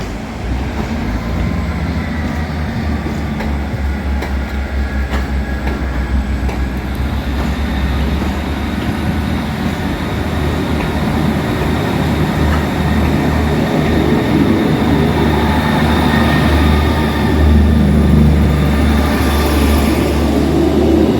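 Diesel passenger train near Portsmouth, a Class 166 or 158 unit, rumbling steadily with a deep engine drone and rolling rail noise, building slightly louder toward the end, heard alone without talk.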